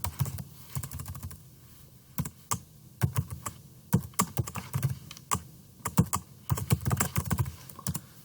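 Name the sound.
typing on a computer keyboard in Visual Studio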